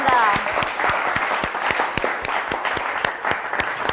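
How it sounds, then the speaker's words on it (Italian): Studio audience applause on an Italian TV quiz show, close, rhythmic clapping with distinct sharp beats running steadily throughout, a voice briefly heard at the start. "Pronti per l'applauso?"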